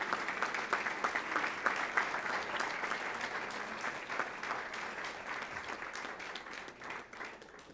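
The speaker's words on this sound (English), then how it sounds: "Let's give them a round of applause as they enter the room." Sustained applause from an audience greets Weslaco high school mariachi students as they walk into a school board meeting room, steady clapping filling the full stretch before tapering slightly at the end.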